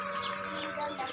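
Small birds for sale at a bird seller's stall chirp and twitter in a steady busy chorus, close by, with market bustle underneath.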